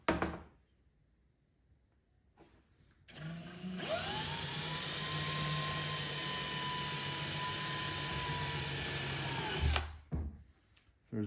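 Power drill boring a center hole for a fuel sender in the fuel tank of a vintage Willys Jeep being fitted with Aces fuel injection: one steady, loud whirring run of about six seconds, preceded and followed by brief handling noises.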